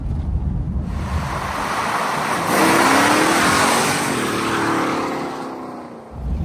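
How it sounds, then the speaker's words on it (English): A 1971 Dodge Charger Super Bee on old, dry-rotted tires does a rolling burnout: a loud, steady roar of engine and spinning rubber, swelling midway with a rising whine and heavy wind buffeting throughout. "This thing does insane rolling burnouts."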